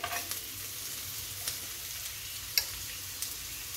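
Chopped onion, carrot and peas for fried rice sizzle softly in a pan, a low steady fry broken by a few light scrapes and one sharp clink of the spatula, no voices.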